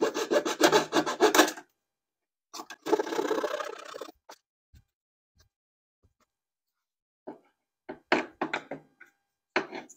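A panel for a C3 Corvette wiper bay is cut by hand, with bursts of rough, rasping sawing strokes at close range, a long stroke sequence, pauses of silence, then a few short final strokes and knocks.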